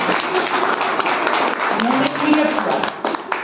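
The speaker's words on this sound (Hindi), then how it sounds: "इनके लिए जोरदार ताली" Audience applause at a Hindi-language IMC business event, a dense, steady wash of many hands clapping with crowd noise mixed in, fairly loud throughout.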